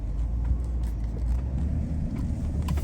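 Steady low rumble of a car driving along a heavily wooded country road near White River, Arkansas, with continuous tire and road noise heard from inside the vehicle and no talking.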